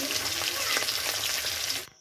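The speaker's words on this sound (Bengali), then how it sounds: "এখন আমি আলুগুলো ভেজে নিচ্ছি।" Potatoes frying in a pan give a loud, steady sizzle with no talking, cutting off abruptly just before the end.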